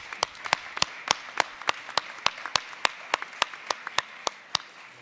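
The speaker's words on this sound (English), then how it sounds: "I think they deserve an applause." Audience at a live perfumers' debate applauds with sparse, sharp individual claps spread evenly across the moment, fairly quiet and without voices.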